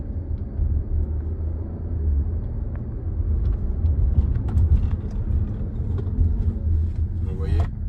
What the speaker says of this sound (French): On accélère un petit peu, on s'écoute le moteur